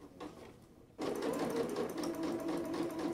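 A sewing machine fitted with a zipper foot stitches piping into a seam, starting after a short quiet lead-in and then running steadily and fairly loud, close by, with no talking.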